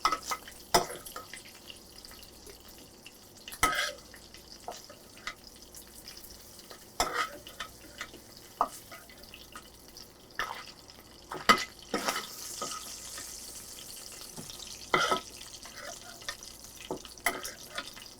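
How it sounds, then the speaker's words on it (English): Green peppers and other vegetables sautéing in browned grease for a Conecuh sausage hash brown casserole, with intermittent stirring clatter and soft sizzle in a home kitchen, no talk. "We're going to use the grease to saute our vegetables."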